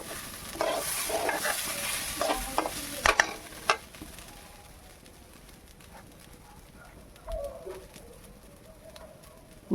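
Rice fries in oil and ghee in a pan while being stirred, heard as a faint sizzle with a few sharp scraping knocks early on and a quieter stretch after.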